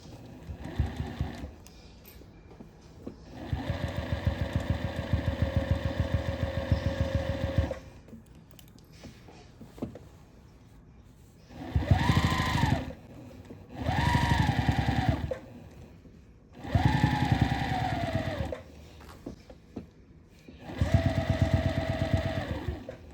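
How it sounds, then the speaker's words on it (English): Sewing machine top stitching the edge of a denim vest, running in several separate bursts of steady rapid stitching with quiet pauses between them, close and clear. "I'm doing some top stitching here."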